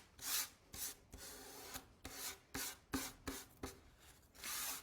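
Sandpaper rubs back and forth over the wood of an old instrument in a steady rhythm of about a dozen short rasping strokes, close and quiet, with no talk.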